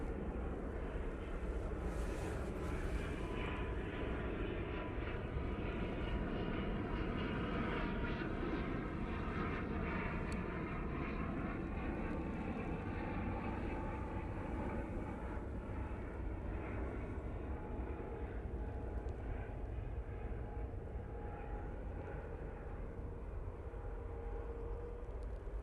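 A Loganair airliner from the Isle of Man, heard as a loud, steady engine roar that holds at the same level throughout without breaks, with no voices.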